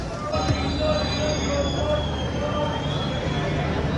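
A train on an Indian summer special run slows after departure, its wheels giving a sustained high squeal over a steady rolling rumble, close and continuous throughout.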